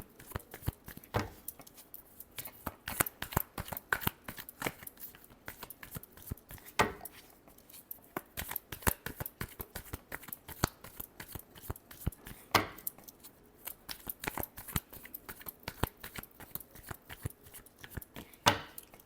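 Tarot cards being shuffled by hand, a long run of dense, crisp riffling and flicking clicks with occasional sharper snaps, close and fairly quiet, with no talking.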